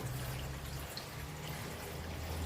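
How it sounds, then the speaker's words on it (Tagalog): Weak water trickling from a tap with a broken pump, a faint, steady thin flow with a low hum beneath, no voices. "Napakahina ng tubig, Mariosa."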